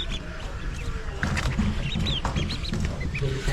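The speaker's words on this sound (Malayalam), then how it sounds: "എല്ലാം പ്യോർ കുട്ടനാടൻ താറാവാണ് കേട്ടോ." Pure Kuttanad ducklings just hatched in an incubator, many high thin peeps chirping over one another in a busy, close chorus that carries on throughout.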